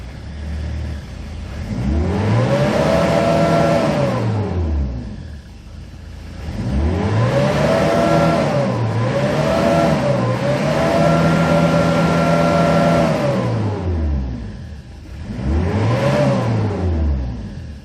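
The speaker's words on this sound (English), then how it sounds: "Let's try to accelerate, see the RPMs." A blue 2002 Hyundai Porter double cab diesel truck with manual transmission revs repeatedly, the engine rising and falling smoothly through several strong, close presses of the throttle with no talk.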